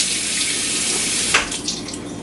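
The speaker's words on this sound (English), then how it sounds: "I'm going to give the potato a quick rinse as it went flying on me" A kitchen tap runs steadily over a potato being rinsed, a close continuous gush of water with a brief splashing change partway through.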